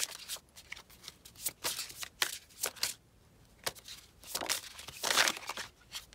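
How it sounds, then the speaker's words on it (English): Tarot cards being shuffled by hand during a pick-a-card reading, a run of crisp papery riffles and flicks that come in irregular bursts, close and fairly quiet, with no talking. "Let's shuffle one more card."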